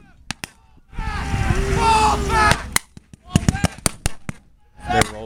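Sharp rifle shots, including a Mosin, crack at a WWII re-enactment. Isolated reports and a cluster of shots ring out around a stretch of rumbling engine or vehicle noise, with people talking nearby.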